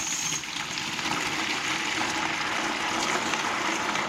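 Water rushing steadily through household pipes once the supply is turned back on, a continuous hissing flow heard alone at moderate level.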